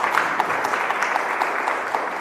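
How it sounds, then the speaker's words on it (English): Steady hand clapping from an audience at a meeting, sustained and fairly close throughout, with no talk over it. "please let me ask you to give them a hand clap for"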